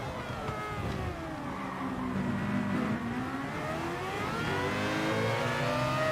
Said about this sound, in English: Oh, that sounds nice as well, that Nissan.